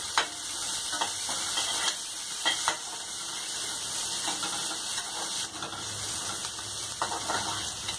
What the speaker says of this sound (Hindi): एक मिनट प्याज भूनने के बाद